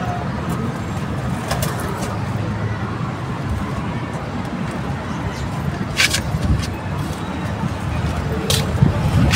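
Pigeons coo in a loft over a constant backdrop of broadband noise, their soft low calls repeating among scattered clatter and brief sharp knocks.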